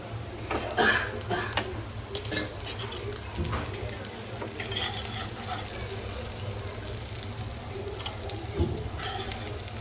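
Steady sizzling and crackling of surmai (kingfish) frying in a hot pan, with occasional utensil clinks and stirring noises.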